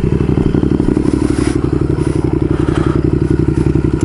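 A motorcycle engine idles close by with a fast, even, loud thumping pulse that holds steady and unaccompanied, with faint clatter over it and no speech.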